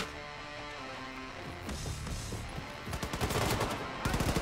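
Rapid bursts of gunfire in the video game Wolfenstein II: The New Colossus, sharp repeated shots in fast strings that grow louder after a stretch of music and game sounds.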